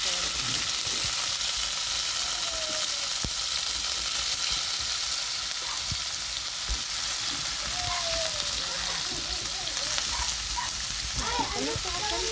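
Marinated pork sizzling in a hot pan for adobo, a continuous close frying hiss with occasional pops and stirring scrapes throughout.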